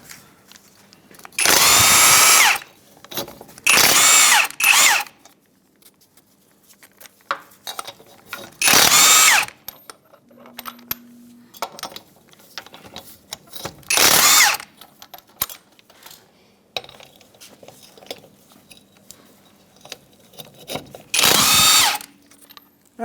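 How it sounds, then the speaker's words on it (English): An impact tool spins lug nut locks off a 1992-1996 Ford F-150 wheel, firing in five loud, separate bursts of a few seconds each, with quiet pauses and faint clatter in between. "Our vehicle has locks on every lug stud, so we're just going to remove those with the lock key."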